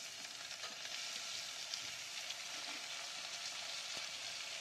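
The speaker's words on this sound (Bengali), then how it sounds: "এবার এতে টমেটোটা দিয়ে দিলাম।" Tomato fries in oil in a pan with onion and panch phoron, giving an even, close crackling sizzle with faint scrapes of stirring throughout.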